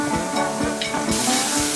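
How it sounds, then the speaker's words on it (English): Pieces of deer heart frying in a pan, a continuous dense sizzle with small rhythmic popping spatters, close and fairly loud, no talking. "the rest of these pieces are frying up"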